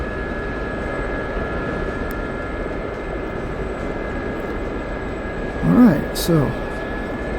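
A jet aircraft flying over a base in the DCS flight simulator, a constant airy engine roar with a steady whine, someone speaking briefly near the end.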